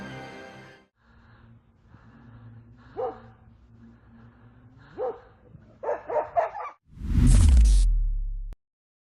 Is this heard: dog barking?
yes